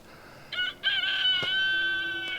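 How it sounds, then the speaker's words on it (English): A rooster crows close by, a loud, drawn-out cock-a-doodle-doo with a couple of short clucks before it, heard over quiet outdoor background near a hay field. "That thing crows every breath."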